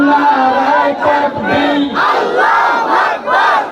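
A large crowd at an Islamic waz gathering chants slogans in unison, loud rhythmic call-and-response bursts of many voices rising and falling together in repeated phrases.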